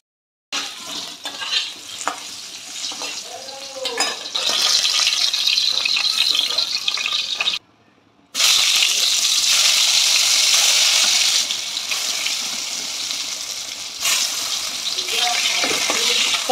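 Potatoes fry in a pan with a loud, busy sizzle and scraping stir, broken by a short pause midway, with a faint voice briefly underneath.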